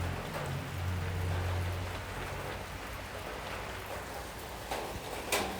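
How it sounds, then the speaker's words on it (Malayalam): Steady rain falls outdoors, a continuous broadband hiss of drops on surfaces with a low rumble early on and a few sharper splashes near the end, no voices. "ഇപ്പോൾ അവിടെ നല്ല മഴയാണ് കേട്ടോ,"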